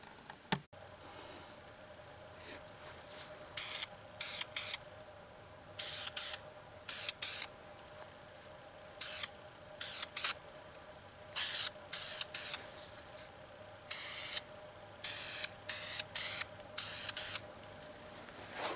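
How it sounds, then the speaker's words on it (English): Short hissing bursts of aerosol polyurethane finish sprayed onto a reclaimed-wood bandsaw box repeat at uneven intervals, loud and close, with quiet pauses between. "This is spray polyurethane."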